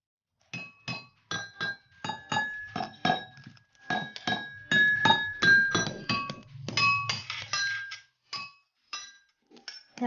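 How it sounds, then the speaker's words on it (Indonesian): Identical drinking glasses filled with different amounts of water are struck one after another, giving a quick series of bright clinks and ringing tones at varied pitches, near and clear, with short pauses between the strikes. "pertama-tama kita siapkan gelas yang sama, lalu kita isi air dengan isi yang berbeda."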